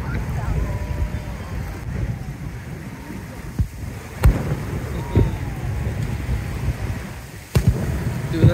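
Fireworks bursting over Siesta Key Beach in Florida during a 2024 show, with several sharp booms spaced a few seconds apart over a steady rumble of crowd noise and surf, as nearby voices talk.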